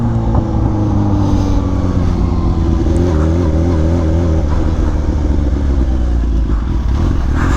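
A Kawasaki Ninja H2 motorcycle after a dead battery, its engine running loud and close with a steady low drone and shifting revs throughout.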